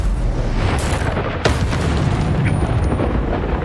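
An Incendio fire spell bursts in Hogwarts Legacy with loud, booming blasts, sharp bright cracks near the start and middle, and a steady rumbling fire roar running throughout.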